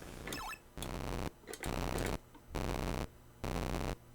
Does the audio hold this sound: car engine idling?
no